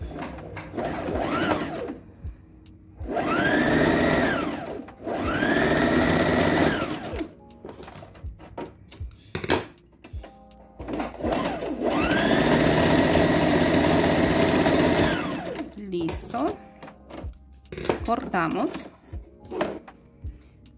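A sewing machine runs straight stitches on a child's underwear, its steady motor whir coming in several long bursts that stop and start, with someone speaking Spanish during the pauses and at times over the machine.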